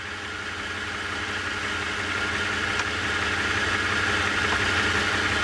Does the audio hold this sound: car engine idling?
yes